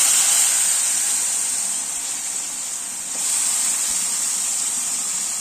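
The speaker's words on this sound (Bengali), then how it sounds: "এটাকে আমি ছাঁকা তেলে ভেজে নেব" Food coated in turmeric and salt sizzles steadily as it deep-fries in hot oil, a loud, bright, continuous hiss that dips briefly before surging back.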